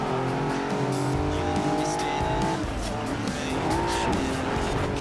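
A race car in Forza Horizon 4, heard from the cockpit view, roars continuously with engine pitch climbing and shifting, tires squealing over loud game sound, with faint talk underneath.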